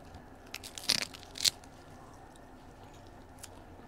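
Two crisp, close crunches come as someone bites into a rice and seaweed onigiri bought in Japan, followed by quieter chewing in a hushed room.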